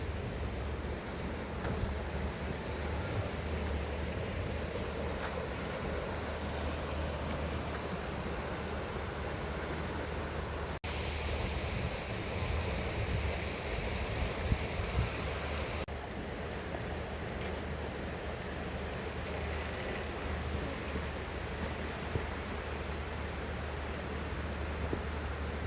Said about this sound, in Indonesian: Ini adalah Sungai Garoga ya.